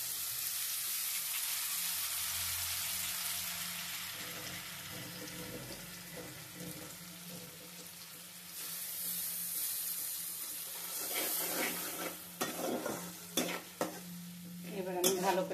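Whole spices such as cardamom, cinnamon and garam masala are stirred with fried onions in a hot pan, giving a steady close sizzle with scraping spoon strokes and a few sharp clinks toward the end, with no talking.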